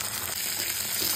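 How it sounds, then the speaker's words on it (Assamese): Chopped taro (kochu) frying in a pan with a steady, close sizzle that fills the whole moment without a break. "কচু এয়া ভাজি লৈছোঁ"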